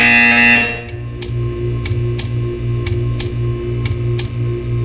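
A buzzer in a Portal 2 test chamber sounds as a loud electronic blast, then settles into a looping pulsing drone with regular bright ticks about every half second.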